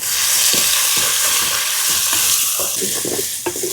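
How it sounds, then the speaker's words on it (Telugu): Finely chopped onions fry loudly in a pan, a steady broadband sizzle with repeated scraping stirs from a spoon, close and continuous, no one talking. "సన్నగా తరిగిన ఎర్రగడ్డ ముక్కలు వేసుకుందాం."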